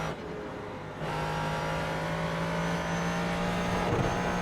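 Ford GT3 race car lapping at Sonoma, a steady droning engine note holding a constant pitch after a brief quieter start, with a short dip in revs near the end; no talk.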